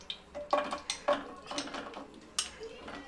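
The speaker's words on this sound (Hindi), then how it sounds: "अब इसके अंदर हम आधी कटोरी घी ऐड करेंगे और इसके अंदर हम खजूर भूनेंगे" Dates roasting in ghee in a pan, stirred so the spoon knocks and scrapes against the metal in repeated sharp clinks, with soft frying underneath and some voice nearby.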